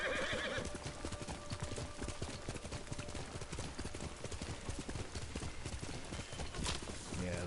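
A horse's hooves clop at a steady trotting rhythm in the Ghost of Tsushima video game, quiet and continuous, with brief whinny-like tones among the game sounds.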